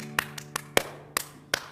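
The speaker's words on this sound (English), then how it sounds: "So there's a clapping pattern." A congregation claps in rhythm during a Shabbat service with a community menorah lighting: about seven sharp, fairly close claps in a short grouped pattern, with no voices.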